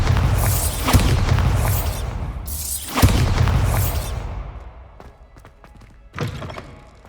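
Bombarda blasting spell from the video game Hogwarts Legacy, a few heavy booming thuds with crackling bursts, loud and near, each followed by a fading rumble.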